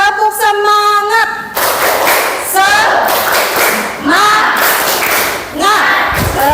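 A class claps in a rhythmic chant routine, with quick bursts of hand claps in patterned groups mixed with children's voices calling out together, loud and close in a classroom.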